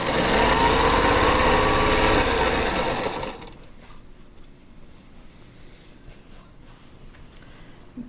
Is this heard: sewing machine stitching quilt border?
yes